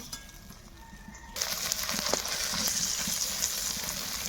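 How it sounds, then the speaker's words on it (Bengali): Prawns frying in oil in a village kitchen: a soft background at first, then a steady, loud crackling sizzle that continues to the end, close to the pan. "চিংড়ি মাছ ভাজা হয়ে গিয়েছে এখন তুলে নেব"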